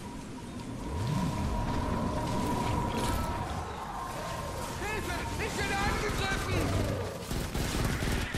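Gunfire in Fortnite: Save the World on Xbox One, rapid bursts of game shooting and mechanical clatter running under someone talking in German, fairly continuous at moderate loudness.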